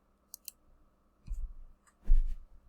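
Calculator keys are pressed in a few sparse taps: two light clicks, then two heavier thumping key presses, close and quiet in an otherwise silent room.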